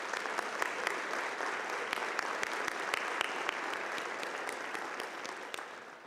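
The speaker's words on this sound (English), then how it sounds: "let's take a second to thank them with a round of applause once again." Sustained applause from a large university commencement crowd, dense steady clapping with a few sharp individual claps standing out, slowly tapering at the end.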